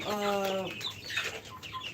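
Chickens clucking at a poultry farm where 47-day-old laying hens are kept, with one close, loud bird call followed by softer clucks and rustling in the background.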